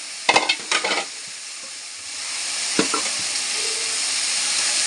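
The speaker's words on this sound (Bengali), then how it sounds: "এটাকে আমি এই যে ভালো করে কষবো" Pea greens with green chili, salt and spices sizzle in a pan, opening with a few sharp stirring scrapes and then settling into a steady, rising frying hiss, with no talk.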